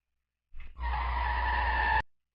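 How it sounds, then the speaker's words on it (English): Tires skid on a car in a PS4 driving video game, a loud, sustained screech lasting over a second after a short rough onset, ending abruptly, with no crash impact evident. "You guys in the car crash, don't do that in the middle of the line."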